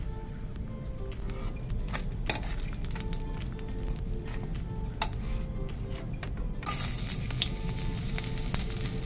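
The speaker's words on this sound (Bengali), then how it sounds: "আমি অল্প একটু তেল দিয়ে 3-4টে রুটিকে ভেজে নেব।" Rotis frying in a little oil in a pan, a steady close sizzle that hisses continuously, broken by occasional clinks of a utensil against the pan and a brighter, louder sizzle near the end.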